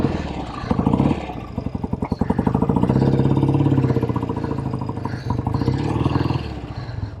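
A 1967 BSA Spitfire Special MkIII motorcycle engine runs close by, a loud, steady, rough rumble with rapid firing pulses that swell slightly in the middle, heard alone without talk.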